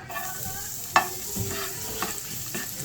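Garlic frying in chili oil sizzles in a pan, with a sharp clank of a utensil and scraping stirs breaking through the steady hiss.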